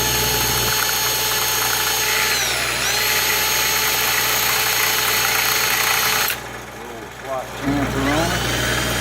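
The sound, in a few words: drill spinning a carburetor tube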